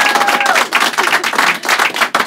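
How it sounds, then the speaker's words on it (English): An audience at a studio show claps for a performer, a dense round of applause that rises and falls in loud bursts, with brief whistles near the start. "Give her another clap."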